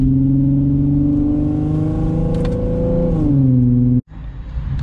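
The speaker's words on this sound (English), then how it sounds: "Them rev matches, baby." An Infiniti G35 coupe's engine rings loud and close from inside the car, holding a steady drone before blipping upward in a rev match, then cutting off abruptly.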